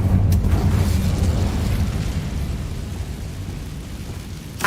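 Incendio fire spell cast in the Hogwarts Legacy video game, a loud rumbling whoosh of flame with heavy low roar that swells at the start and slowly fades over several seconds, ending with a brief crackling burst.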